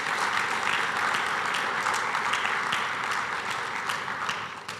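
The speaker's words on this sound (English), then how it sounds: "A round of applause for my marketing team." Sustained applause from a conference audience honoring a marketing team, dense steady clapping filling the hall for the full stretch, tapering slightly near the end.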